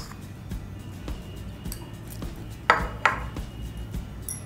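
Peeled garlic cloves are pounded in a kitchen while making garlic tea, giving a series of sharp, close knocks and clinks at a steady pace, with two louder strikes near the middle.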